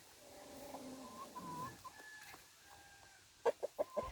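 Soft clucking and low murmurs from molting rescue chickens over a quiet outdoor background, ending with a quick series of four sharper clucks.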